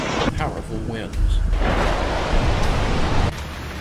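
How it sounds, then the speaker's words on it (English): Heavy rain during a tropical storm or hurricane, a loud, steady broadband roar of downpour that swells after the first second and continues without a break to the end, with no voices. "Heavy rain and dangerous flooding."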